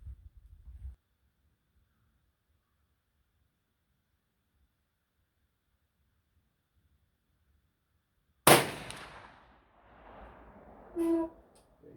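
A ULR .454 Casull revolver fires one sharp, loud shot at an outdoor range after a long quiet stretch, followed by a decaying echo and a short burst of ringing.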